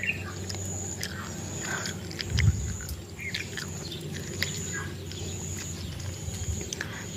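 A bird calls outdoors on a rural farm in repeated short chirps and squawks, fairly faint and distant over steady ambient background with a brief low thump midway.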